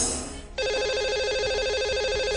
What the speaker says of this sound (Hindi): तो इन्हें लगाएंगे अब हम कॉल और करते हैं इनसे बात।